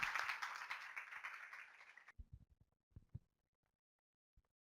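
Audience applause at an educational conference in a hall, a dense burst of clapping for about two seconds that cuts off abruptly, followed by a few scattered, isolated claps and knocks.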